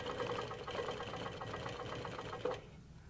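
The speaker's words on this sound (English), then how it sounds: "I will move the ruler over and go ahead and stitch the next one" Longarm quilting machine stitching a clamshell pattern along a ruler, a steady rapid mechanical needle chatter with a whirring motor hum that stops abruptly near the end.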